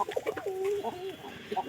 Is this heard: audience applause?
no